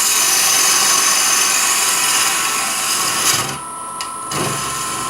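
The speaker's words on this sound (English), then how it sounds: "Take our 3/8 spindle gouge. Take a little bit of this material out." A 3/8 spindle gouge cuts into a spinning wooden ring box on a woodturning lathe, a steady close scraping hiss under the motor hum that drops off briefly near the end.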